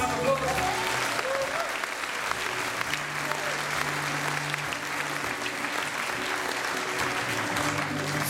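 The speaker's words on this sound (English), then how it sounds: "Give Simon a round of applause" Steady applause from an audience at a live music gig, honouring the band's tour manager, sustained and dense for the whole stretch with no voices over it.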